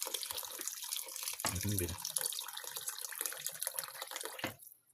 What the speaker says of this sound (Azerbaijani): Və üzərinə də biraz su əlavə edirik.